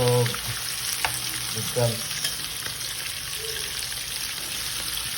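Squid (calamari) for adobong pusit frying in a pan, a steady hiss and sizzle running throughout with a few clinks of stirring, while a voice speaks briefly near the start.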